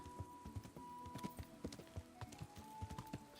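Horse hooves clip-clop in a steady walking rhythm in the medieval game Kingdom Come: Deliverance, faint and even, over a soft ambient background.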